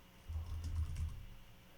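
Brief burst of typing on a computer keyboard, soft, close keystrokes clustered for about a second, then tapering off into quiet room tone.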